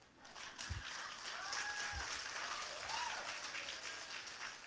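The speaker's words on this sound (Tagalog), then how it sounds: "Palakpak nga lang, tinitipid nyo pa." A church congregation in Marikina applauds, a soft, continuous spread of clapping heard at a distance, fairly quiet and steady throughout.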